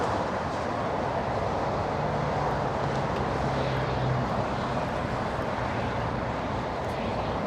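Delta jet arriving from Atlanta at LAX, a continuous loud engine roar with a faint droning tone partway through, steady and unaccompanied by voices.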